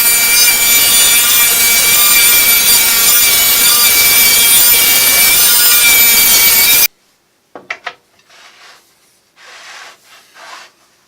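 A table saw cutting wood for a taper jig, a loud steady whining cut held for about seven seconds that stops abruptly, followed by a few faint knocks and handling noises.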